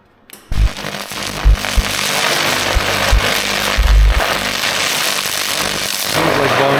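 An Amazon handheld laser welder/cleaner works across Bondo body filler, giving a steady, loud crackling hiss with irregular snapping pops throughout, close and continuous with no voices.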